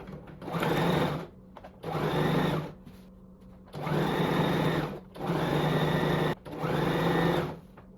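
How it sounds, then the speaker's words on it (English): A sewing machine stitches fabric for a halter top in five loud, close bursts of about a second each, with brief pauses between runs. "Now you're just going to continue sewing up until the very end."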